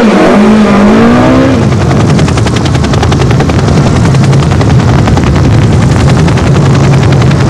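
Onboard a Sasol VW Golf front-wheel-drive rally car on a wet Rally of South Africa stage, the engine roaring loud and close with a rapid rhythmic pulsing as it revs hard, accompanied by steady road and spray noise.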